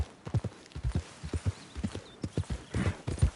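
Horse hooves clip-clopping in a PS4 video game, a brisk irregular run of close hoof strikes over roughly three seconds, with no voice over them.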